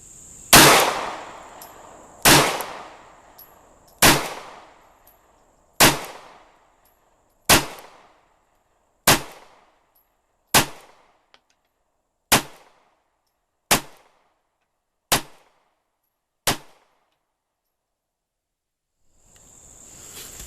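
Eleven sharp gunshots from a Kel-Tec P11 pistol, loud and close, each ringing out and decaying briefly, fired at roughly 1.5-second intervals, with quiet gaps between shots.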